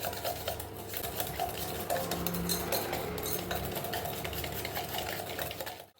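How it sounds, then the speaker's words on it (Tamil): Butter and brown sugar creamed together in a bowl for ragi cookie dough, a spoon scraping and tapping steadily against the sides in a quiet, continuous stirring rhythm. "இப்போது இதை 2 நிமிஷம் நல்லா இந்த மாதிரி மிக்ஸ் பண்ணி விட்டுருங்க"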